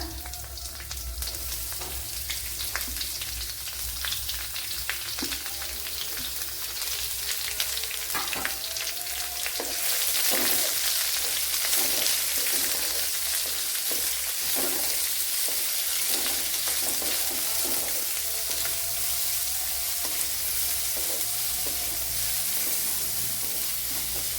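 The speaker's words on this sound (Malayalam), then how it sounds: "അതിലേക്ക് ഒരു വലിയൊരു സവാള കട്ട് ചെയ്ത് ഇട്ട് കൊടുക്കുക." Chopped onion sautéing in a pan with garlic and coconut for a Kerala tapioca dish, a continuous loud sizzle with scraping stirs and spoon taps that grows stronger partway through, no speech.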